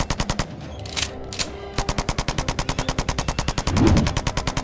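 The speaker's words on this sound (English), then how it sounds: "began to shoot at them from machine guns" Rapid machine gun fire in a Roblox Poppy Playtime animation of hunters shooting at Huggy Wuggy, loud and sustained, a steady stream of tightly spaced shots running the whole way through.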